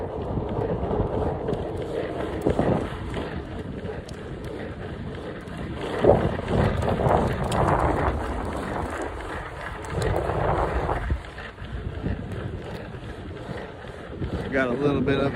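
Headwind buffeting the microphone while skateboarding outdoors, a rough fluctuating roar of wind noise mixed with wheel rumble, with someone talking over it.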